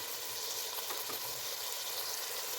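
Spaghetti sauce seasoned with soy sauce fries in a pan with a steady, even sizzle. The sound is close and continuous, with no one talking.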